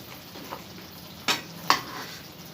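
Sweet shakarpara being stirred in sugar syrup, a soft sticky sizzle underneath with two sharper scraping clinks of the spoon against the pan, close and fairly quiet, no talking.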